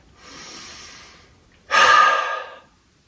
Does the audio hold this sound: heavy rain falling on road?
no